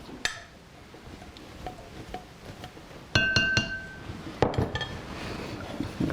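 Melted butter and flour stirred in a glass dish produce close, sharp clinks and scrapes of a utensil against glass, irregular at first and then busier and louder, with no talking.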